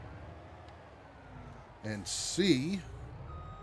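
A pink truck in Farming Simulator 22 backs up toward a trailer to hitch it, with a burst of engine and hiss and what may be reversing beeps rising partway through while someone talks over it.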